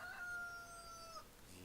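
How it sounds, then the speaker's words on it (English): A cockerel crows in the video game Farming Simulator 2013, a single long drawn-out call that is faint and somewhat distant, set against quiet background ambience. "really don't like that cockerel"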